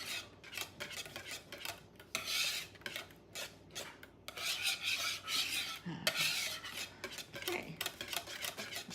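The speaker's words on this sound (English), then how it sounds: "2 minutes seems like a long time when you're whisking, doesn't it?" A whisk scrapes and rattles through chipotle lime dressing in a bowl, making quick rhythmic metallic strokes with short pauses, close and steady, and nobody speaks.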